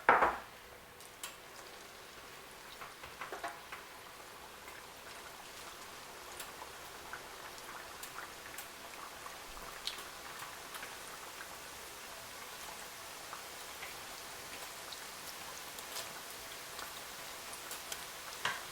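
Milk chin chin dough, a Cameroonian fried snack, cooks in hot oil, giving a faint, steady sizzle dotted with sporadic small crackles and pops throughout.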